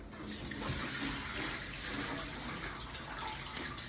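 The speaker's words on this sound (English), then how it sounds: "I just poured some more water in to flush like the last bit of dirt out." Water pours steadily into a bathtub, flushing the last grit down toward the drain with a continuous, fairly loud gushing rush that lasts throughout.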